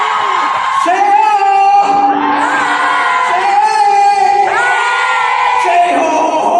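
A concert crowd shouts, whoops and cheers loudly and continuously, with rising yells and a voice over a microphone mixed in.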